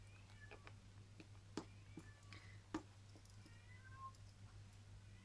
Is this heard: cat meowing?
yes